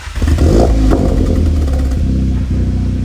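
Seat Ibiza Cupra with a stage 1 tune starts up and revs, a loud close engine with a throaty rumble that rises and settles into a steady idle.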